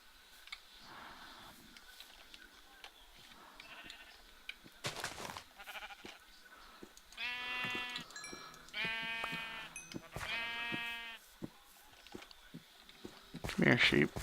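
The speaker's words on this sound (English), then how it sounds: "Come here, sheep. You're roaming around in the middle of town." Sheep in the Minecraft video game bleat in several short bursts with pauses between, moderately loud over a quiet game background, with a faint tick near the end.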